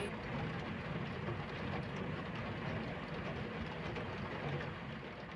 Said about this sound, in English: It's kind of rainy out, I'm all cozy.